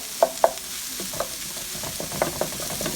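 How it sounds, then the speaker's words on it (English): Italian sausage being stirred as it fries in a pan, with a few sharp scraping clicks of the utensil over a steady soft sizzle, close and fairly quiet. "I'm going to add back to the pan, the Italian sausage. Stir this up."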